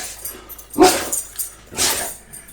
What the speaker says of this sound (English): oh no, my dogs are going to start barking